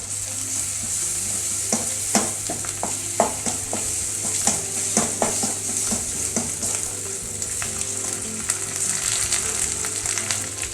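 Ginger and garlic fry in hot oil for a spicy brinjal kulambu, a steady close sizzle broken by repeated scraping and clacking strokes of a spoon stirring the pan, with no voices.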